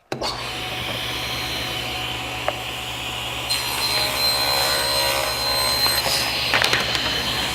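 A saw crosscuts a wooden board in a workshop, producing a continuous loud motor whine that grows harsher and louder midway through the cut, with a few sharp knocks near the end.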